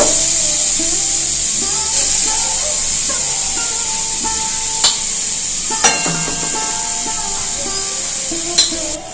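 Coconut frying in a kadai while being stirred for a sweet chire kheer pithe filling: a steady close hiss broken by occasional spatula scrapes and clinks against the pan.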